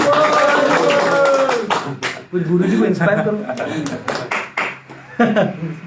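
An audience at a Bhagavad Gita lecture claps. The loud bursts of hand claps alternate with someone speaking over them, and the applause rises, fades and returns.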